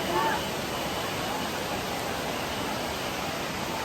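Savatkada Waterfall pours in a steady, loud, broadband rush of falling water, unbroken throughout and close by.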